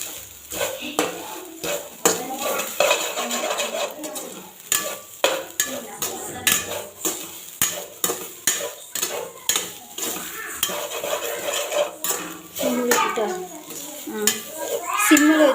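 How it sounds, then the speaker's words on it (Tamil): A coconut candy mixture is stirred in a pan with a spoon, giving repeated scraping clinks and soft sizzling in a steady rhythm, while a voice talks intermittently over it. "சிம்மில் வச்சு நல்லா கிளறிக்கோங்க."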